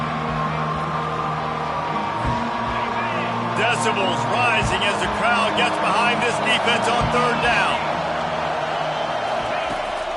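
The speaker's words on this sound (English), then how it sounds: "Decibels rising as the crowd gets behind this" In College Football 25, a stadium crowd roars behind a defense on third down, the roar swelling slightly midway. A commentator talks over it throughout.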